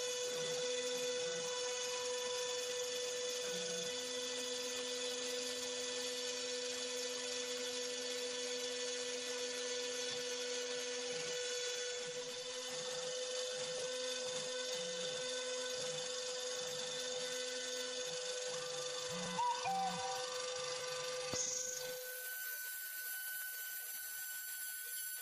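A CNC machine drilling a circuit board gives a steady high-pitched whine over a low motor drone that shifts and pulses, then changes tone near the end.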